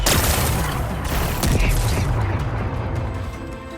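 Rocks blasted apart in the Horizon Forbidden West video game, a loud rumbling explosion with crackling debris and a second burst about a third of the way in, then a long fading roar.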